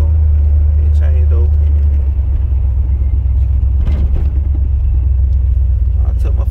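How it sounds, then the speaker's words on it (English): A 1987 Oldsmobile Cutlass with a suspect automatic transmission runs with a loud, steady low engine rumble from inside the car, and someone talks over it. "I took my foot off the gas, it changed over"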